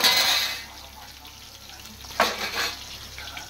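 Manchurian mixture sizzles gently in a pan with a soft hiss as it is fried until red, and a spatula scrapes and stirs partway through, close and fairly quiet.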